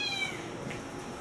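Cats meowing at a shelter-bound colony of several healthy cats, a thin high cry at the start fading over a steady background hiss, no talk.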